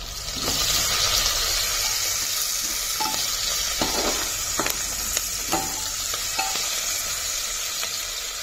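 Onion sautéed and stirred in a hot pan, with a steady sizzle and clear scraping strokes from a spatula at intervals, heard close and alone.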